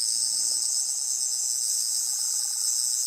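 A steady, high-pitched electronic whine from a toy sonic screwdriver on its red setting hums continuously, like a toy buzzing tone held without a break for a few seconds.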